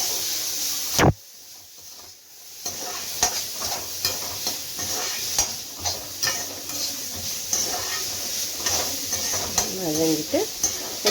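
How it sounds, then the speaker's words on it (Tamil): Vegetables for a sambar sizzle and sauté in a pan while a spoon scrapes and stirs in irregular clinks and scuffs, close and fairly quiet, with a short lull near the start. "காய் வதங்கணுங்க."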